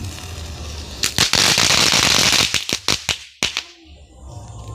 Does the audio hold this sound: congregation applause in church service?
no